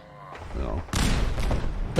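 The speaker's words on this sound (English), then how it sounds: "Grenades everywhere." Grenade explosions in the Fallout 4 video game, heard as a sudden heavy blast about halfway through, then sustained loud rumbling and crackling debris that follows a quieter stretch of game noise.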